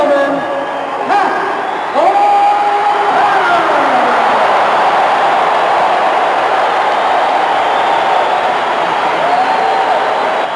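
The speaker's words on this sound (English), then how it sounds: "Listen to that crowd roar." A wrestling arena crowd roars and cheers at a farewell match, a continuous loud wash of voices with a few whoops rising above it.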